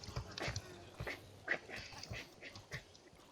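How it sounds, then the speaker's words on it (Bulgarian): A dog in a video game barks and yips in a quick, irregular run of short, faint bursts, with soft game noise underneath. "На биги, злобно кученце!"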